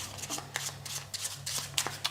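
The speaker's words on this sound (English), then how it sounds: "Now, I'll shuffle yours, you shuffle mine." Packet of playing cards being shuffled by hand during a magic trick, a series of quick soft riffling and flicking bursts, close and quiet, with no speech.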